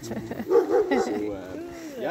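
Sled dogs yip, bark and whine in a close, excited chorus before a dog sledding outing in Tetagouche Nord, New Brunswick, with people talking over the noise.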